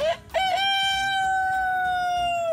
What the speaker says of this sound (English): there was a rooster on a white picket fence crowing one morning